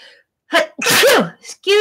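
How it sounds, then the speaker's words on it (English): A person sneezes loudly up close, a sharp inhale followed by a forceful burst, then a short vocal sound trailing after. "I'm going to sneeze."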